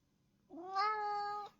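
A house cat gives a single clear, drawn-out meow, rising and then holding steady for about a second in a quiet room, with no talk over it.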